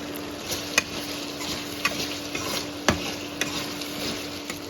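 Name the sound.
tomatoes frying with homemade chili flakes for Kashmiri fish curry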